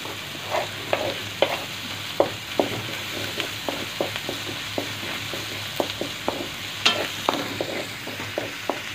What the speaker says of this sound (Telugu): వెల్లుల్లి కూడా ఎగిపోయిందండి.